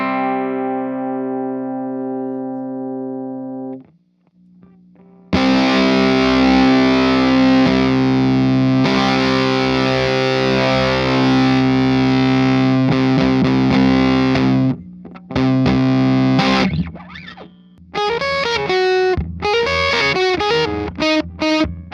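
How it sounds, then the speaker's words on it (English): Electric guitar through a pedalboard with a Face Ripper fuzz hooked up, a held tone, then a long dense strummed passage, followed by choppy stabs and quick picked notes, loud and alone. "So now we got the Face Ripper fuzz hooked up, my current favorite fuzz"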